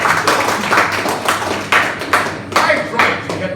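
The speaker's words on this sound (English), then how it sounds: "Please give Donald Trump a round of applause." Indoor audience at a comedy talk event clapping in a steady, close burst of applause that runs throughout without a break.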